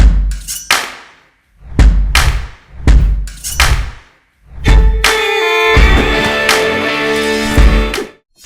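Firecracker bursts at a Kerala temple pooram festival in Chalavara and Puliyanamkunnu, a series of loud booming detonations at an uneven rhythm, then a dense crackling barrage with ringing tones, close and powerful.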